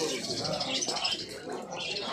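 Small amadina finches in cages at a busy bird market in Asaka, Andijan, give dense, high chirping and twittering calls, with market noise and voices mixed in.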